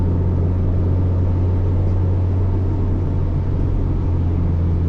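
A Subaru STI driving at night makes a steady, loud low engine drone and road rumble heard from inside the car, with no breaks and no talking.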